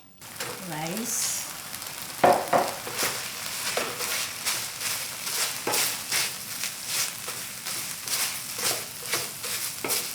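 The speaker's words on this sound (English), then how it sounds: "I'm going to make a stir-fried rice" Leftover spicy beef bulgogi, sauced with gochujang and gochugaru, is stir-fried into rice in a hot pan, giving close, loud sizzling with repeated scraping and tossing strokes in an uneven rhythm.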